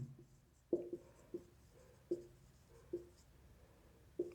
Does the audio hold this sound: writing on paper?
yes